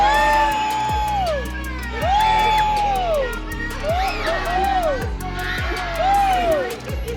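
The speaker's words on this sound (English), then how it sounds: "Give yourselves a cheer." A crowd at a sea lion show in a West Midlands safari park cheers and shouts, loud and sustained, with children's yells and whoops rising in repeated swells while a presenter's amplified voice sweeps over the noise.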